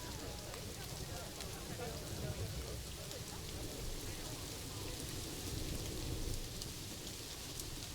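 Steady rain in the Planet Zoo zoo-building game, a continuous even hiss of falling rain running throughout with no clear breaks, faint low rumbling underneath.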